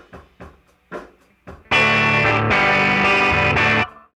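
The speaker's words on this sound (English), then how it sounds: "overdrive, which you can think of as the sound of an amp turned up just to the point of breaking up" A few muted, choppy guitar picks lead into sustained overdriven electric guitar chords, warm and gritty, ringing loudly for about two seconds before stopping.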